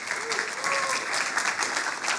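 A short burst of steady audience applause at a marketing conference, moderately loud and continuous, with a faint voice briefly audible beneath the clapping.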